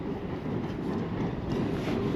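A steady, low mechanical rumble of trains clattering along tracks below Princes Street in Edinburgh continues evenly at moderate loudness with no voices.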